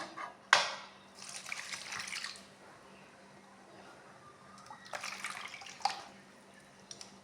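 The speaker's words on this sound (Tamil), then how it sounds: "இதில் வந்து இவருங்க தயிரை ஊற்றிக்கிறேன்" Thick homemade curd is poured over cooked rice for curd rice in a home kitchen, heard as two soft, wet pouring bursts separated by quieter stretches of faint background noise.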